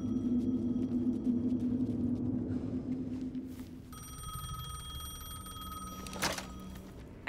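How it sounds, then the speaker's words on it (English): A payphone rings with a steady electronic warble over a low rumble, then shifts into a higher, sustained ringing tone with a brief sharp click near the end; no one speaks. "The payphone was ringing."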